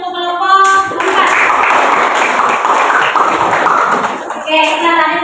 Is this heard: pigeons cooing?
no